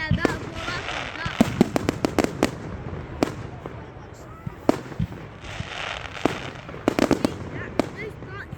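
Bonfire Night fireworks in Elgin burst overhead in a string of sharp, loud cracks and bangs, some in quick clusters and others spaced apart, with crackling fallout and voices talking between the blasts.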